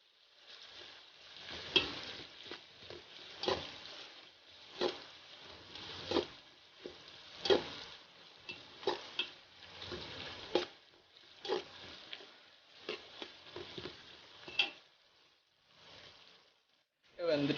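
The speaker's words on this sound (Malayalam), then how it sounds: "സവോള നന്നായിട്ട് വേവണം" Onions fry in oil and are stirred steadily toward golden for a chicken biryani, producing a band-limited sizzle broken by repeated scraping bursts from the stirring, at a moderate, uneven level.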